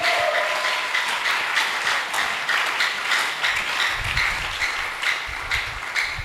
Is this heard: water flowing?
no